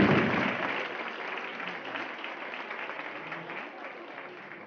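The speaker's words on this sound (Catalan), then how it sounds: "Un fort aplaudiment per a ells." Audience at a symphonic children's music show applauding the performers, a dense round of clapping that starts strong and slowly tapers while continuing to the end.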